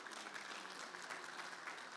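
Steady audience clapping fills the room at a youth empowerment community meeting in Stanislaus County, even and fairly faint throughout.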